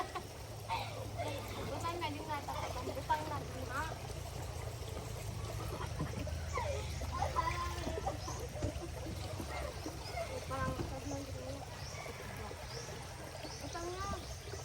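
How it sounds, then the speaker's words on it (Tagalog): Countryside spring water trickling and gurgling steadily in rural Western Samar, a low continuous flow heard close, with voices talking over it throughout. "Ang bukal ng bukid."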